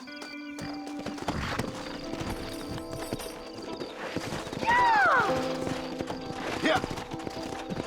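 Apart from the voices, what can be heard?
horses in Red Dead Redemption video game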